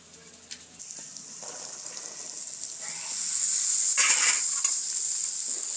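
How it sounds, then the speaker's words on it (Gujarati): Black chickpeas go into a sizzling spice tempering in a pan, giving a sharp, rising frying hiss as they are stirred, with brief scraping and bursts of crackle close up. "સરસ એવો વઘાર થઈ ગયો છે તો આ ચણા આપણે ઉમેરી દઈશું"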